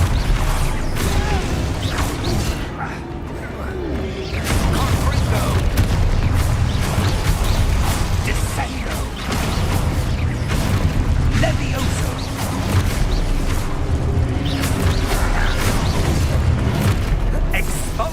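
Blasting Confringo spell explosions in the Hogwarts Legacy video game, a dense, continuous barrage of booming blasts and crashing impacts lasting throughout, loud and close with a rumbling low end.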